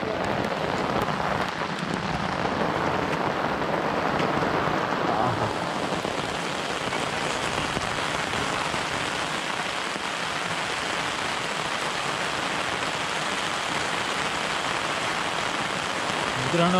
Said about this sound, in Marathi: पण आता शेवटी पाऊस आला आहे